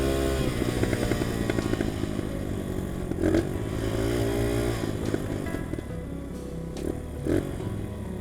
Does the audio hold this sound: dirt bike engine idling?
yes